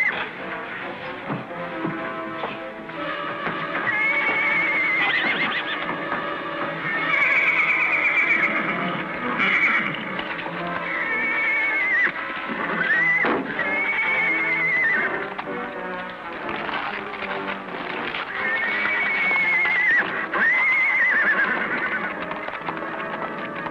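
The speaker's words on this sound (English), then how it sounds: "We're just borrowing your horse, Sonny." Horses in a 1950s western series whinny repeatedly and tramp with clip-clopping hooves, loud and close, the neighs rising and falling across a long stretch with steady hoof and movement noise beneath.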